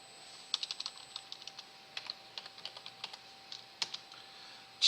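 Fingers tap on a computer keyboard in a quick, irregular patter of light clicks, close and fairly quiet over a faint steady hum, with brief pauses between bursts of keystrokes while entering figures into accounting software.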